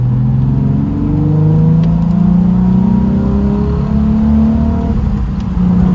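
A Nissan 350Z sports car engine with Stage 1 tuning revs loudly nearby, its pitch climbing and settling in repeated sweeps over a constant growl.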